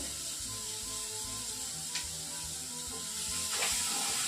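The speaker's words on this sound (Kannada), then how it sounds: "ಸ್ವಲ್ಪ ಹೊತ್ತು ಫ್ರೈ ಆಗೋದಕ್ಕೆ ಬಿಡಬೇಕು" Onion, tomato and ginger fry in a pan for a village-style mushroom curry, giving a soft, steady sizzle and hiss that stays quiet and even throughout, with no talking.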